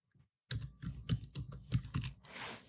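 Typing on a computer keyboard: a brisk string of close, distinct key clicks in an uneven rhythm for about two seconds, ending in a soft breathy rush.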